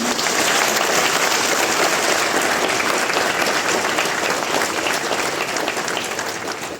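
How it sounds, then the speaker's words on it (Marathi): Sustained, dense applause from an audience at a Mumbai police retirement ceremony, loud and steady throughout before tapering slightly at the end. "तुमच्या सर्वांसाठी तुम्ही एकदा टाळ्यांचा कडकडाट करावा"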